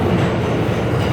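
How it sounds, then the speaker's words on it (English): A New York City subway Q train heading to Manhattan runs steadily, with a loud continuous low rumble and rattling rail noise filling the whole stretch, close and unbroken, with no voices. "this is the Q train to Manhattan"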